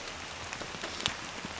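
Steady rain falls on a tent at a rainy camp, a dense, even patter with scattered louder drops and a few sharper taps, constant throughout with no voices.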